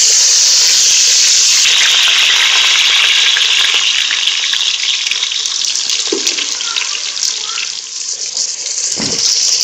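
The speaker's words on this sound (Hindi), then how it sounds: "देखिए तेल गर्म हो गया है, अब इसमें डालेंगे सबसे पहले प्याज" Onions frying in hot oil in a pot, a loud steady sizzle filling the whole stretch, with faint stirring and a couple of brief knocks near the end and no talk.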